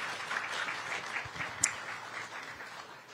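A crowd at a Supercross press conference in Anaheim cheers and applauds as 450-class riders take the stage, a steady wash of clapping with one sharp accent partway through.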